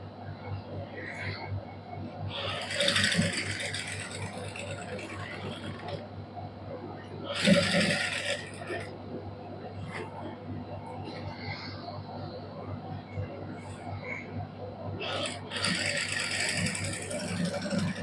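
A sewing machine stitches plain fabric for a neckline design on a matching suit, sewn with five colours of thread. Its motor gives a steady low mechanical hum throughout, broken by sharper bursts of stitching noise.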